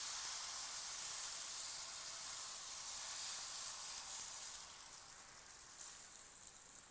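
Rice amboli batter hits a hot pan and sizzles in a steady, even hiss, fairly quiet and close, fading slightly toward the end with no voices.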